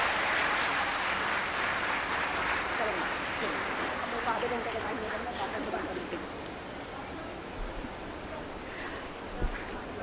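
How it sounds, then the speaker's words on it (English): An audience at a university orientation day applauds steadily to welcome speakers, a broad wash of clapping that slowly fades toward the end. "Please welcome both of them with a big round of applause"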